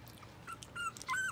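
A French bulldog puppy whimpering nearby, a few thin, high, rising whines in short bursts that grow longer toward the end, heard alone in a quiet room.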